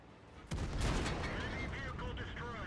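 Tank cannon fire in World of Tanks, a heavy IS-6 battle: one deep, booming shot that lands suddenly and then rings on in a long metallic, reverberating tail.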